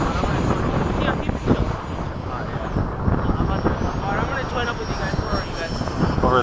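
Freewing 90mm F-22 model jets flying in formation at a flying field, a steady loud electric ducted-fan roar with wind buffeting, continuous throughout with faint voices underneath.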